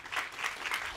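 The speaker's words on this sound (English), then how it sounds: "Applause for Penang." Audience applause at an EIT Climate-KIC Climathon global awards ceremony, a soft, fairly distant wash of clapping from a crowd, steady for about a second.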